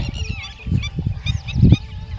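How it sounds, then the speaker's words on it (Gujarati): Birds honk loudly and close by, like geese. Several overlapping honks come in quick, uneven bursts with no pause between them. "પંખીઓ કેવા બેઠા છે"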